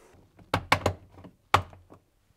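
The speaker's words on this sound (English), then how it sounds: "You can then fit the covers at the top, making sure they click into place." Plastic covers at the top of a fridge freezer snapping into place after an evaporator fan replacement: a quick cluster of three sharp clicks followed by one more a moment later, close and distinct in a quiet room.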